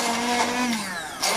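A hand blender whirs through spinach and chillies for a palak gosht, a close, steady motor whine with slight shifts in pitch as the blade works through the mixture, with no one talking.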